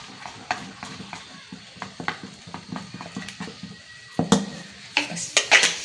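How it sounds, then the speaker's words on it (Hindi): A spoon stirs garlic ginger paste into a thick potato snack batter, giving soft, irregular scrapes and dull taps against the bowl that grow louder and busier near the end, with no voices. "तो ये 1 टीस्पून डालूंगी लहसुन अदरक का पेस्ट, इसको भी मैं अच्छी तरह मिला लूंगी।"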